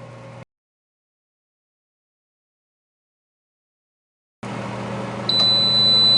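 Kalorik MAXX 16-quart digital air fryer oven sounding its end-of-cook signal after 20 minutes at 400 degrees, a steady electronic tone heard close up against a low appliance hum, with a brief quiet gap before it.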